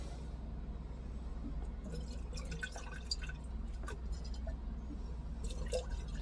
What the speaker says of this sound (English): I was changing my bong water for fresh water